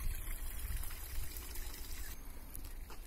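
Water trickles down a small waterfall into a garden pond beside a private palace-like house, a soft, continuous splashing dribble heard close and faint.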